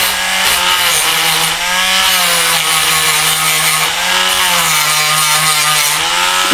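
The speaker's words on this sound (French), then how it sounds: "c'est ça ce qui va me permettre, avec ma petite meule, de venir meuler les" A small grinder grinds down protruding nail points on a wooden box, a loud steady high whine with slight pitch dips as the disc bites the metal, close and continuous with no talking.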